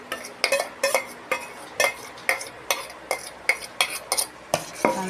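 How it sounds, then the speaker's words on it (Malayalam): A utensil stirs melted soap base after orange extract is added, a steady rhythm of close clinking scrapes against the container, about a dozen strokes in quick succession. "നന്നായിട്ട് ഇളക്കി കൊടുക്കണം."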